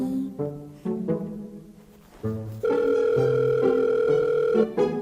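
A telephone ringback tone sounds in repeated steady beeps, then a long continuous electronic tone, loud and clear with no talking.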